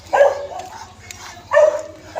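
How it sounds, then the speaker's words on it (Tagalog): Tethered dog near an open gate barking twice from a short distance, two sharp bursts separated by a quiet pause. "isang aso pa po dito buti po nakatali bukas po yung gate"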